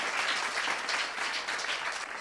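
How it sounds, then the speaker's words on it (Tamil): An audience at a painting-themed show applauds steadily and close, with dense continuous clapping and no pause. "ஒரு நிமிடம் இடைவிடாது நம்முடைய கைத்தட்டு"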